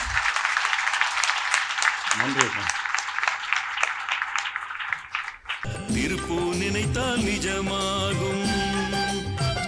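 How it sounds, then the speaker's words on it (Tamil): Audience applause at a charitable trust's silver jubilee ceremony, clapping heard for about five seconds over a low hum before music with singing takes over loudly. "நல்ல கரகோஷம் எழுப்பவும்"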